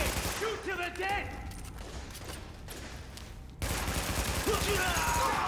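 Rapid bursts of AR rifle fire crackle through a video game firefight, loud and close, mixed with in-game effects while players talk and shout over the shooting.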